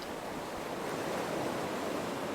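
Ocean water lapping against the side of a moving ferry boat, a steady broadband wash of surf and rushing water with no pauses, heard close and even throughout.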